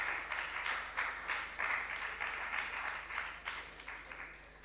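Spectators at a junior science and maths quiz regional qualifier clap for a team, a faint, uneven patter of hands heard from a distance with a steady background hum.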